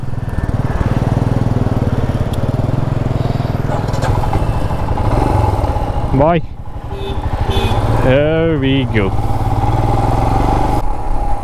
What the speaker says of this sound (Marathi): आता आम्ही चालवणार आहे हिमालयन, माझी ड्रीम बाईक